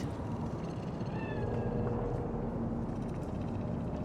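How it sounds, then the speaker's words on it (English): Cat meowing in the Cyberpunk 2077 video game, set in Night City, a couple of short mewing calls over a steady ambient drone from the game's soundscape. "Fine-looking feline. Thought they'd all disappeared from the city."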